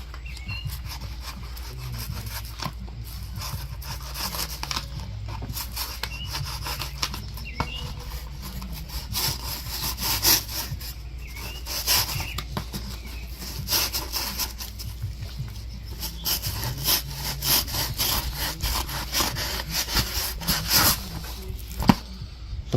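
A sharp knife slices a walleye fillet, producing steady, close rasping and rubbing strokes that repeat irregularly over a low background hum, with no talking.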